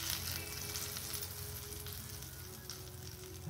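Hot cumin tempering in oil is poured into a peanut fasting chutney, giving a steady, loud sizzle that crackles continuously on its own.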